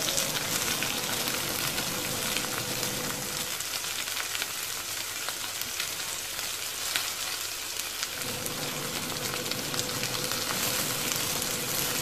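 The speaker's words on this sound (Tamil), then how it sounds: "நல்லா தக்காளி வதங்குற வரைக்கும் அப்படியே வச்சுருங்க. நல்லா வதக்கி விட்டுட்டே இருங்க." Tomatoes sautéing with fenugreek leaves in a pan, giving a continuous steady sizzle and hiss throughout, fairly even in level with no speech.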